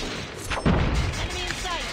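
A single grenade blast in the mobile shooter Call of Duty Mobile: one heavy, muffled boom rolls out partway through, over a constant bed of game noise and background rumble.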